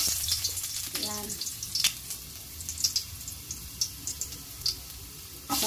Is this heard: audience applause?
no